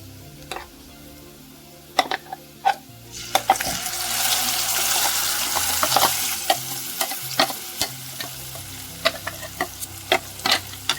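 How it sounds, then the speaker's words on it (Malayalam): Ground chutney paste being stirred into curry leaves frying in hot oil for a red chammanthi to go with dosa: a steady sizzle with scraping spoon clicks and knocks against the pan, up close, with no talking. "ഇതിലേക്ക് നമ്മൾ അരച്ച് വെച്ചിട്ടുള്ള അരപ്പ് ചേർത്തിട്ട് ഇളക്കി കൊടുക്കാം."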